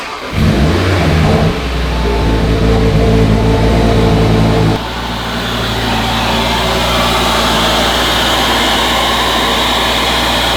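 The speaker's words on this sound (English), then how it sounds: "I think it's time to start the car and show you guys how it sounds." Audi RS3 fitted with a 5-inch air intake starts with a loud cranking roar that swells, then settles after a few seconds into a steady, smooth and quieter idle drone close by.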